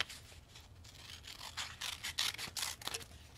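Scissors snipping a paper heart, a quiet run of small crisp cuts that grows a little busier toward the end, close and faint.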